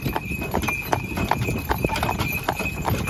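Steady clip-clop of a draft horse's hooves at a relaxed walking pace, close by, pulling a cart through a village, with faint rumbling of the cart under it.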